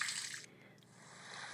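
Rain ambience from a relaxation app: a soft, steady hiss of falling water that dips briefly, then returns, faint and continuous.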